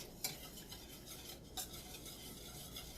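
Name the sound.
whisking sauce in a pot to remove lumps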